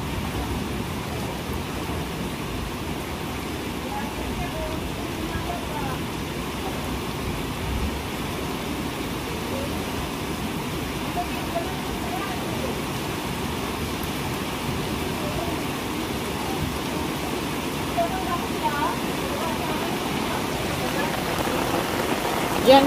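Heavy pouring rain drums steadily on a rooftop, a dense, continuous close wash of noise that holds loud throughout with no break.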